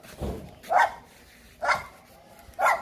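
A dog barks at a house with a guppy fish farm, three sharp barks spaced about a second apart, fairly close and clear over quiet surroundings.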